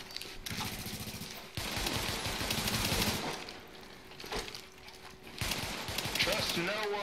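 Rapid bursts of automatic gunfire crackle through a firefight in The Division video game, with loud volleys starting and stopping across the clip while players talk over it.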